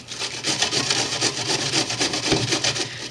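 Cabbage being grated by hand for vegetable dumplings, a close, steady rhythm of rasping strokes repeating a few times per second with no talk.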